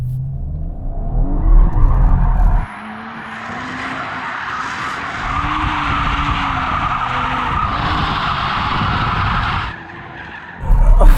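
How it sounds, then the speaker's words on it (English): An Audi RS4 spins around on loose ground, its revving engine joined by long, loud tire skids that swell and fade in wavering sweeps before the car settles. "It does start to go straight, so you can't do like a constant donut, but you can spin it around."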